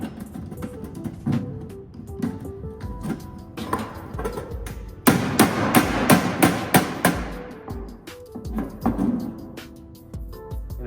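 Sheet metal being hammered over a one-inch bend to form an end cap for a 10x110 sheet metal box: repeated sharp metallic strikes in an uneven rhythm, with a louder, denser flurry of blows midway, close and without talk.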